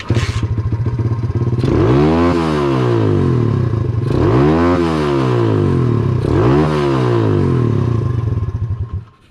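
A pit bike engine idles and revs loudly after a carburetor needle swap, rising and falling in three distinct sweeps with mechanical clatter throughout, close up and running alone.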